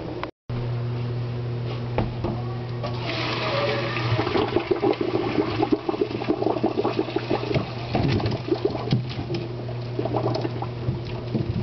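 Water drained from a pot of cooked beets, a strong continuous pouring gush that grows louder and splashier, close by, after a brief clunk at the start.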